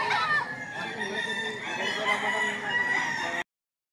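Fighting cocks for sale at a gamecock market in Lipa, Batangas, crow repeatedly in a loud, continuous overlapping chorus, several roosters close by with clucking mixed in.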